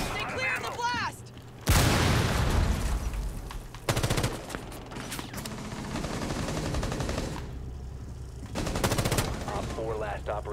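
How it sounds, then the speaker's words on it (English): In a tactical shooter video game, an explosive breach charge blasts through a window with a loud sudden boom, followed by gunfire bursts and a second sharp blast; a voice talks briefly at the start and end. "I gotta break this window. Stay clear of the blast!"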